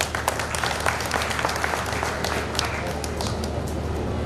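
A gathering at a community conference claps steadily, the applause sitting moderately loud over a low, constant hum from the hall's sound system.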